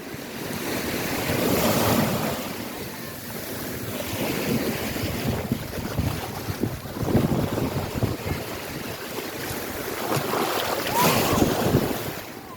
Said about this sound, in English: We got the waves going on.